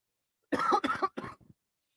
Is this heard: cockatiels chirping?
no